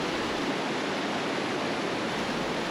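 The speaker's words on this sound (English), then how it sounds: "Through here the water moves really fast and there's lots of rocks." Fast-flowing river water rushing over many rocks in remote Papua New Guinea trekking country, a steady dense broadband roar that holds even and unbroken throughout, close and fairly loud, with no voices.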